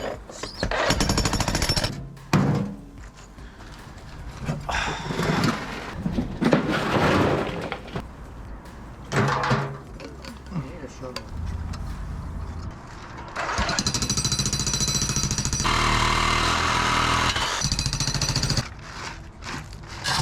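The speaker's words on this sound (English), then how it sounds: "We were jackhammering" A jackhammer breaking material during a home renovation, loud and close, running in long rattling bursts separated by short pauses and quieter stretches of work noise.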